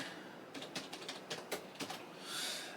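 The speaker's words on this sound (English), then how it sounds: "I'm going to type my Windows password." A Windows password is typed on a computer keyboard: a quick run of about a dozen faint, close keystrokes in an uneven rhythm, followed by a soft rustle.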